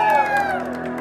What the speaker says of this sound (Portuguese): Uma salva de palmas pro Thiago.